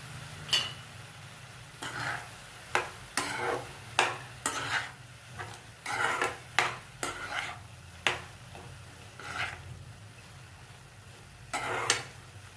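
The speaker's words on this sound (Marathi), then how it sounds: "आता हे छान मिक्स करून घ्यायचं" Carrot halwa with crumbled pedha stirred in a pot, a dozen or so sharp spoon scrapes and clanks in an uneven rhythm over a faint low simmer, close and without talk.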